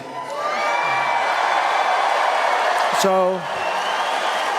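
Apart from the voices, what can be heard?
crowd cheering at a Trump town hall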